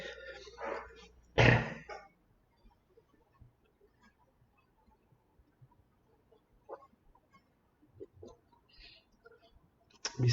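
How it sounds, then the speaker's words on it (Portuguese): A person clears their throat with a sharp, close rasping burst near the start during a Sunday evening church service broadcast, followed by mostly quiet room with faint scattered clicks. "porque o pigarro só vem quando eu estou na transmissão"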